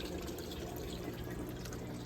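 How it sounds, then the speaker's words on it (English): Active Aqua 370 GPH pond pump on a timer pushing water up into a rock-filled grow bed, a steady close trickle and splash of running water with no talk over it. "the pump will turn on every 7 minutes or so and pump water up into this top thing"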